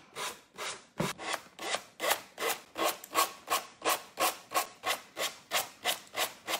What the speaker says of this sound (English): So when I sand, I am sanding in the downward position